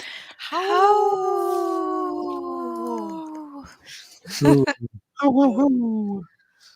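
A wolf howls in long, sustained, wavering tones, followed by shorter rising and falling howls, loud and close with brief pauses between calls.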